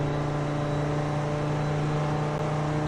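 A car engine in the Roblox video game hums at a steady, fairly quiet pitch, a continuous synthetic motor drone with no breaks or voices.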